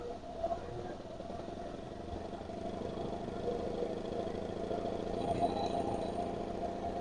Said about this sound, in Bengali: মেশিনটা চলতেছে আমার